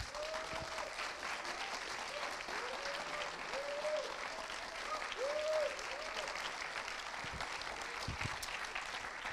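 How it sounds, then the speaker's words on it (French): Sustained applause from an audience at a cinema masterclass honoring a film director, steady dense clapping throughout with a few faint tonal whistles or voices rising above it. "Merci de faire un tonnerre d'applaudissements au réalisateur du film"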